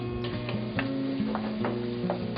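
Onions softened in a pan with olives and spices added for a roasted pepper roll dish, giving a short, steady close sizzle with light rhythmic stirring clicks and no talk.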